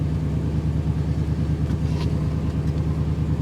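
A 1988 Chevy engine runs steadily after a cold start on an icy morning, giving a close, loud, continuous low rumble with a constant idle throb and no voices.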